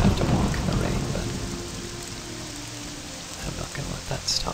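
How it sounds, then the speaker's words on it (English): Video game thunderstorm with rain pattering steadily under a rolling peal of thunder that starts loud and fades, then grows busier again toward the end; no one speaks. "Now, I'd rather not have to walk in the rain"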